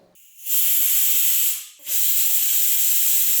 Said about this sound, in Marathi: कुकरच्या दोन शिट्ट्या झाल्या कुकरची पूर्ण वाफ जिरली आहे